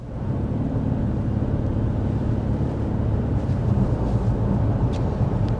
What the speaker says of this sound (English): as I lightly accelerate up to speed, one of the things you might be noticing is the fact that you don't hear any conventional transmission shifts